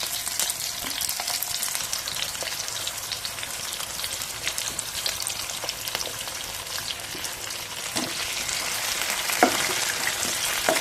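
Slices of elephant foot yam fry in oil with cumin, crackling in a dense, rain-like patter of tiny pops with occasional louder spits, steady and close.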